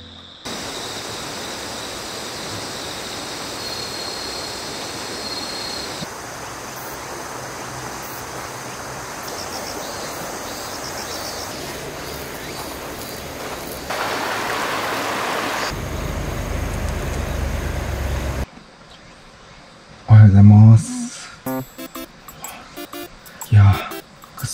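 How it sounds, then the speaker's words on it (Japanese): A river beside a campsite on the Kii Peninsula gives off a steady, loud broadband rush for most of the time, then drops away to quiet with a few close handling knocks near the end. "この起きた瞬間に自然の匂い、そして川の音、最高です"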